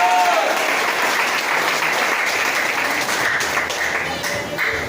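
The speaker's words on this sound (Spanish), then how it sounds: "Dale un fuerte aplauso al Rey de Reyes y Señor de Señores" Loud congregational applause during a church service, a dense sustained wash of many hands clapping with a faint voice or tone at the very start.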